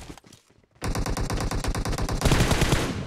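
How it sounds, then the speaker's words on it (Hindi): Rapid automatic gunfire in a shooting video game, a dense rhythmic burst of loud close shots starting after a brief quiet moment and continuing without pause, growing heavier near the end. "यहाँ से फायरिंग आया है आगे"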